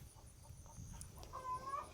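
Chickens cluck softly in a garden, a few faint short clucks and a brief squawk rising at the end against quiet outdoor background.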